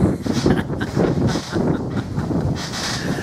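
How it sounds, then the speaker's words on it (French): Loud, steady wind buffets the microphone in rumbling gusts, a continuous roaring rush with no voices. "Il y a le vent qui commence à se lever."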